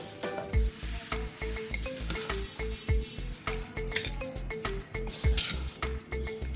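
A spoon mixes mixed vegetable raita with cucumber and fresh coriander in a bowl. Close, rhythmic scraping and soft clinks of metal on the dish repeat steadily, with no talking.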